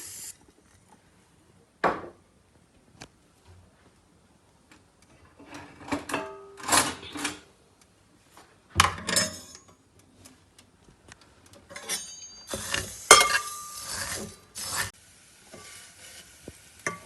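Vermicelli (sewaiyan) roasting in a little fat in a pan, heard as intermittent scraping and stirring bursts with light sizzle, quiet gaps between strokes, growing busier toward the end; no talking.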